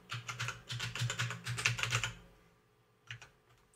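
Fast typing on a computer keyboard while entering a password, a dense run of close, crisp key clicks for about two seconds, then silence and a couple of final taps.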